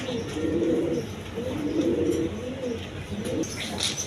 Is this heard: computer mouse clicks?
no